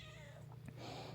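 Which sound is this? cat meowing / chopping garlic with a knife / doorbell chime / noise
cat meowing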